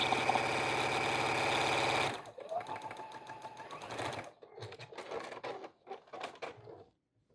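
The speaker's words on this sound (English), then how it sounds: "Now make sure you backstitch at the end, the beginning and end of each side that you're sewing." A sewing machine stitching a flannel infinity scarf: a steady loud mechanical whir for two seconds, then short, quieter stop-and-start bursts as the seam is backstitched.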